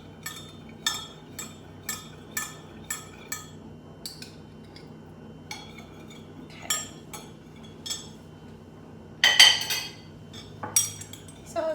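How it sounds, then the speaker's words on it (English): A spoon clinks against a cup while stirring maple syrup into chai, a series of sharp metallic taps in a steady rhythm, close and alone in a quiet kitchen. "Just stirred the maple syrup in"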